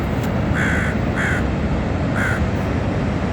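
Crows cawing outdoors, three or four harsh caws in short bursts heard over a steady loud rush of wind or traffic noise, with no talk.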